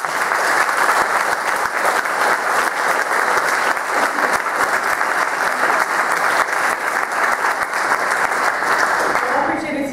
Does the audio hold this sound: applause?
yes